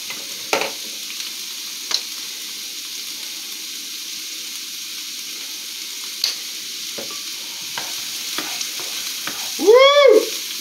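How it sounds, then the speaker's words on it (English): Peppers, celery and garlic sizzle faintly in a pan, a soft steady frying hiss with a few scattered clicks and stirring knocks, then a brief louder scrape near the end. "we're gonna add the peppers, celery, garlic."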